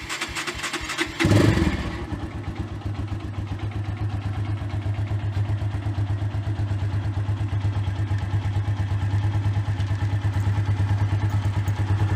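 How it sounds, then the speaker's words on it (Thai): A Honda Phantom 200 motorcycle in good condition is running, starting with a brief burst and then settling into a steady, rhythmic idle with a mechanical clatter, close and continuous. "ลองฟังเสียงเครื่องดูนะครับ"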